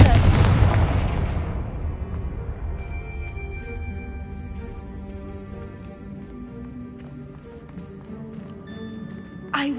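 A Confringo fire spell bursts in the Hogwarts Legacy video game, opening with a loud, booming blast that decays over about two seconds into a lingering magical shimmer and soft game ambience.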